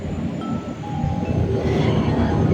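The Kedungsepur passenger train at Semarang Tawang station rumbles low and steady with faint wheel and brake tones, growing slightly louder as it moves close by.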